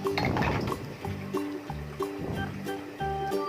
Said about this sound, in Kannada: ಇನ್ನೂ ಒಂದು ಸ್ವಲ್ಪ ನೀರು ಹಾಕಿದೆ